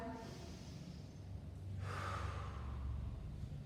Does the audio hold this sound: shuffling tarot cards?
no